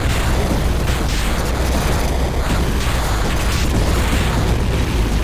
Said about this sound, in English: Yeah, it's exploding.